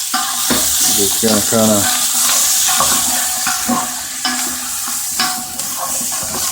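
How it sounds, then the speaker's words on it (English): Garlic and onion sauté in a hot pan greased with bacon drippings for brisket chili, a steady loud sizzle with stirring scrapes and clinks, while someone talks briefly over it near the start. "Pan's nice and hot. And go the garlic and the onion."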